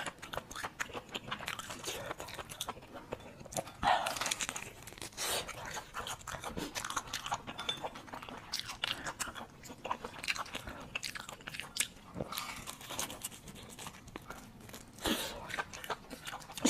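Crunchy, mildly spicy fried large intestine, crisped in an air fryer or pan, being bitten and chewed close up, with the thin end crisp and the thick end chewy. Quiet, irregular crunches and bites repeat throughout.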